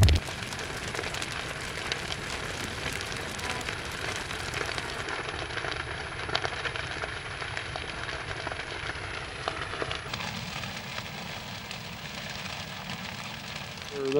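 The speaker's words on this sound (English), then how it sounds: "we're going to light off the big field and let it burn." A prescribed burn sweeps across a large native grass field, giving a steady crackling roar that holds constant throughout, with no voices present.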